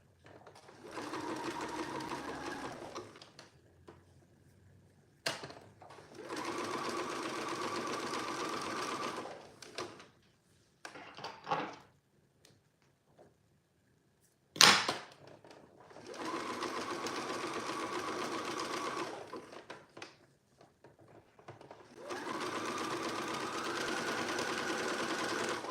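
A domestic sewing machine stitches a sweatshirt in several sustained bursts of steady whirring, separated by quiet pauses with small clicks and handling noises, recorded close up.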